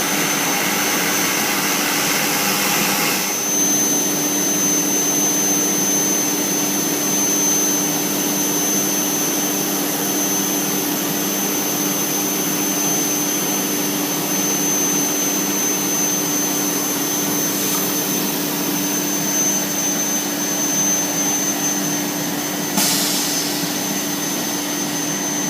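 CNC machine milling an old piece of scrap, a steady loud continuous whine and hum with a high tonal line, running alone without pause throughout.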